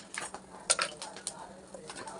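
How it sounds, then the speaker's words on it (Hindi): Washed, cleaned mutton trotters being put into a pressure cooker with a few light metallic clinks and clatters, close by and fairly quiet. "ये 1 केजी पाया साफ़ किया हुआ है और इसको धो के हम कुकर में डाल रहे हैं बॉईल करने के लिए।"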